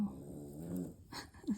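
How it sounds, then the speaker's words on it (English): A sleeper snores softly and close by indoors, a couple of raspy, low breaths over quiet room tone. "Sorry about the snores."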